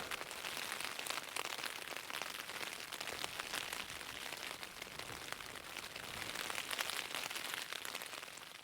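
Steady rain from Storm Eowyn patters softly and evenly on a tent at a campsite, a faint continuous hiss with no voices.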